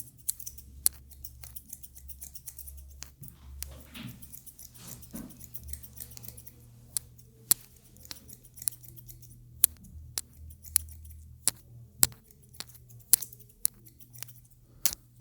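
Thinning scissors snip through hair during a taper fade haircut, a series of sharp, close, crisp clicks at irregular intervals over quiet room tone, with no talking.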